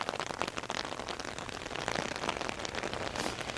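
Steady rain falls outside, a dense continuous hiss of drops pattering on surfaces at an even level throughout, with no voices over it.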